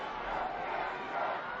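A stadium crowd roars at a football match, the New Zealand v Papua New Guinea OFC Nations Cup final, a dense sustained wash of cheering that swells slightly toward the end, with faint commentary-like voice mixed in.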